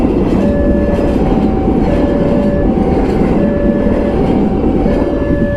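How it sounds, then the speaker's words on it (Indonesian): A train rolls past close by in Sidoarjo on the way to Gresik, a loud steady rumble of rail cars with clattering wheels and a faint tonal whine that fills the whole stretch without letup. "keretanya datang cuy, lewat."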